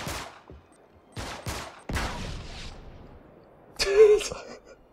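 Several sharp bursts of gunfire crack out in Uncharted 3: Drake's Deception, spaced short volleys separated by quiet gaps, followed by a louder burst under a shout.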